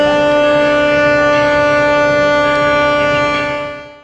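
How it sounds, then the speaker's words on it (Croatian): Civil defense sirens sound at noon across Croatia in mourning for victims of the Paris terrorist attacks. A steady, sustained wailing tone with layered harmonics holds loud and even, then fades out at the very end. "Točno u podne diljem Hrvatske oglasile su se sirene u znak podrške stradalima u terorističkim napadima prošlog petka u Parizu"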